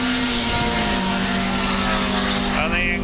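A Toyota Levin race car crosses the start-finish line at a circuit, its engine a loud, steady drone with a rising whine near the end, under continuous race commentary.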